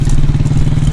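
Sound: motorcycle riding with the group

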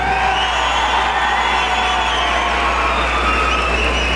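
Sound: crowd applauding and cheering for a bull finalist

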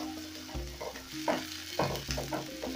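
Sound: sautéing in a pan

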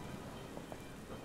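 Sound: rain in the Wild Area, Pokemon Sword video game

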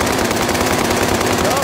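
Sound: gunfire

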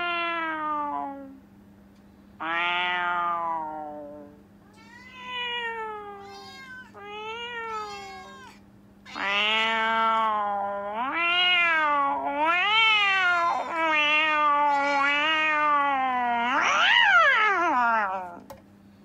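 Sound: Alexa smart speaker imitating a cat meowing

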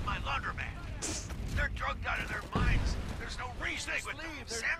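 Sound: grenade explosions in video game RoboCop: Rogue City

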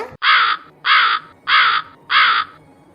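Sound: crows cawing (cartoon)

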